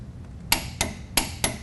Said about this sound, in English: I'm going to use my torque wrench gun, and we're going to set the specification on all 3 of those bolts